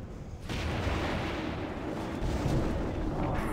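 A Shockwave ability explosion in a World of Warcraft Gnomeregan raid, a loud, sustained rumbling blast that swells after a brief quieter start and holds dense and heavy throughout.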